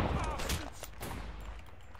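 A gunfire volley in a Zulu War video game: a ragged burst of several rifle shots fired close together, loud at the start and then trailing off into a rumbling echo.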